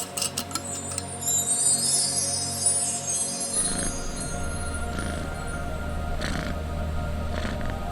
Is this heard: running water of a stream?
no